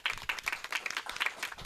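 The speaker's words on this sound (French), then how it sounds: "j'aimerais bien qu'on applaudisse Shayman et Olympe" A small audience claps briskly and evenly at a women's health presentation, a short burst of close, steady applause.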